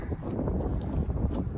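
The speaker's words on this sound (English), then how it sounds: "The wind's blowing." Wind blowing outdoors at a muddy spot beside a truck, a loud, constant low rumble buffeting the microphone throughout.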